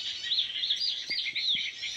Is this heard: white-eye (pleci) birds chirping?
yes